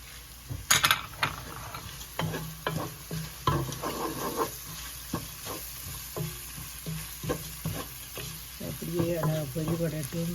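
Curry leaves and rampe dropped into hot oil for mutton curry, a steady close sizzle with crackling bursts, scraping stirs and a few clinks of a spoon against the pan.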